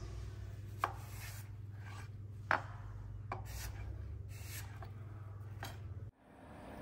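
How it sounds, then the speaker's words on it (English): A knife cuts apple wedges into cubes on a board, giving a few sparse, soft chopping taps over a steady low hum. The taps are fairly close and come with no talk. "cut the wedges into cubes"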